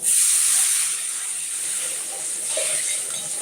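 Water poured into a hot pan of Bengali pabda fish curry, giving a loud, steady steaming hiss that starts at once and holds for a few seconds, with a brief bubbling flutter near the end.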